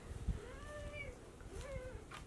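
A small cat gives two soft, drawn-out meows indoors, faint and fairly close, with a brief thump near the start.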